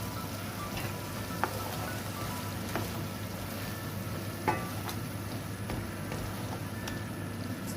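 Seasoned chicken sizzles and fries in a pan, a steady close crackle with a few brief scrapes from stirring and no voices.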